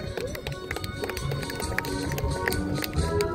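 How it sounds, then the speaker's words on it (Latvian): A horse trotting with an extended trot at an outdoor horse show, a steady stream of hoofbeats under continuous crowd murmur and background noise. "Plaši rikši, lūk."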